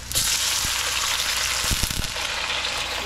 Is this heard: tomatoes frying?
yes